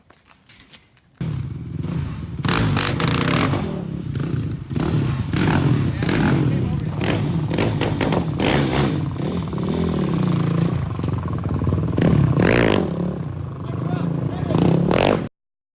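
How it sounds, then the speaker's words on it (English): A Kawasaki KFX450 ATV engine revs loudly and steadily throughout, with surges and rattling clatter mixed in, while people talk over it. "Rev it up a little more."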